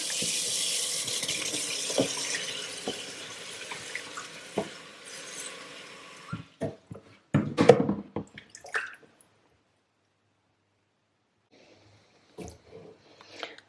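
Lukewarm water runs steadily from a tap for about six seconds, then stops, followed by scattered drips, splashes and light handling noises in a quiet room.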